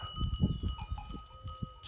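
A herd of sheep and goats with young kids mills about nearby at shearing time, with soft bleats, shuffling and a faint clinking bell over a steady outdoor hum.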